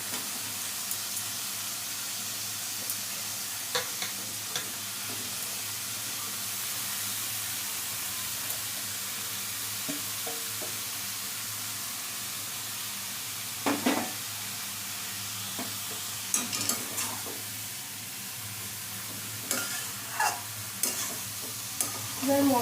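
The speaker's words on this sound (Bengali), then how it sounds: "এবার চাল কুমড়োটা দিয়ে দিচ্ছি।" Ash gourd is stir-fried with spices in a pan for a hilsa fish head curry, giving a continuous close hiss and sizzle broken by scattered scraping and clattering stirs.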